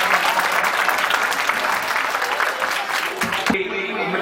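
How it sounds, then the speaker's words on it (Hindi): Thick, continuous audience clapping at a Jain Panchkalyanak dance drama staging in Shaktinagar fills the hall, loud and even for about three and a half seconds before cutting off abruptly. "सभी लोग देखने वाले भी तालियां बजाते हैं।"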